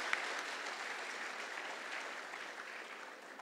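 An audience at an awards ceremony claps in a sustained, dense burst of applause, steady and fairly even throughout, from a crowd heard at moderate distance without speech.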